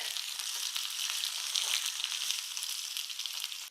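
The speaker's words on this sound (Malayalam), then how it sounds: "എണ്ണ ചൂടായപ്പം കടുക് ഇട്ട് കൊടുത്തു കടുക് പൊട്ടി കഴിഞ്ഞാൽ ചെറിയുള്ളി അരിഞ്ഞു വെച്ചതിട്ടേ" Sliced shallots fry in hot oil with mustard seeds, giving a dense, continuous close-up sizzle with no voices.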